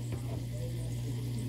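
Adobong kangkong with pork is stirred in a sizzling pan, a steady close frying hiss with a few soft scraping strokes of the spoon early on.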